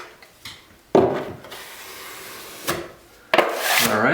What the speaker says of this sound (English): And now I'm just gonna squeegee it